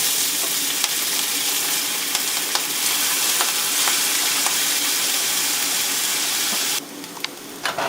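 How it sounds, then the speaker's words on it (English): Chow mein noodles frying in hot peanut oil in a preheated pan give a loud, dense, steady sizzle close up, with a few faint scrapes. It drops suddenly quieter near the end, and no one speaks. "Cook the noodles to the amount of crispiness that you like."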